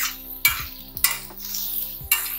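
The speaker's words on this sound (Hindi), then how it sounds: "मैंने सोचा इसी से थोड़ा उल्टा पुल्टा कर लूँ ताकि घी निकल जाए।" Food being turned over in a pan coated with ghee, with three distinct metallic scrapes and clinks of a utensil against the pan, spaced apart over a faint background.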